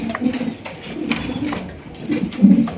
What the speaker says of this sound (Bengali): কিন্তু আরো এক জোড়া মডার্না কবুতর আছে।